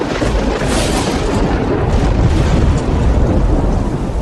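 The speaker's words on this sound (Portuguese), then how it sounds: "Depois que gritou, os 7 trovões responderam com um estrondo." Deep thunder rumbles on without a break, a loud broadband roar with a heavy low end that swells and holds steady. No voices are heard.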